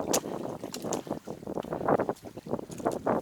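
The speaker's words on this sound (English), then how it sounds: "Getting kind of windy." Gusty wind buffets the microphone on a trail beside a stream crossing, rough irregular rumbling bursts that rise and fall close and fairly loud with no voices.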